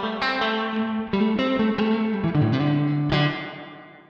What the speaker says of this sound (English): So you get a neat reverb in there, plate reverb.